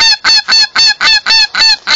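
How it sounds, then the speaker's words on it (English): Geese honk during a South Dakota duck and goose hunt as flocks come in to decoys: eight loud, close, evenly spaced honks in a quick steady rhythm, with no talking. "Flock after flock"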